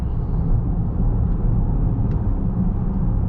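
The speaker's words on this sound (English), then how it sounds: "Okay, so I'm gonna accelerate" A 2024 Honda Prologue Elite AWD electric car accelerating at highway speed, with a steady low road and wind rumble filling the cabin throughout and no distinct motor whine standing out.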